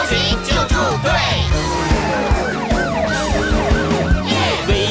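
Rescue vehicle sirens wail in a children's song about police cars, fire engines and ambulances, with repeated rising and falling siren sweeps laid over bouncy music and singing.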